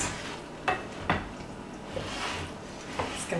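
Noodles are tossed gently with kugel mixture in a dish, giving soft, quiet squishing and stirring sounds punctuated by a few light utensil clinks.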